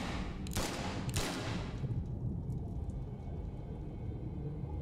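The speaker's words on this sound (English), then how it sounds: "the gunshots always seem to not be in sync with everything else" Two sharp gunshots from The Sinking City video game ring out close together near the start, then fade into a steady low rumbling ambience that continues without further shots.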